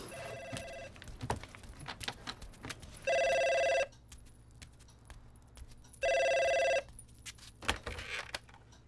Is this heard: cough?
no